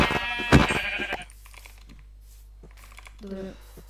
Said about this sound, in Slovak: Á, tu je ovca.